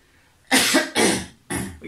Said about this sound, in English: That was a nice cough.